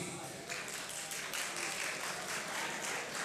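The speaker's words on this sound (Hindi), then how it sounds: "तालियां बजाते रहें" Audience applause for a poet at a mushaira, the spring festival poetry gathering in Khushab, 2023: steady dense clapping from a crowd, sustained and even throughout with some voices mixed in.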